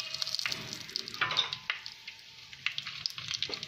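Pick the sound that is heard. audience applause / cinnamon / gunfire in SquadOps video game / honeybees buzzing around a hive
cinnamon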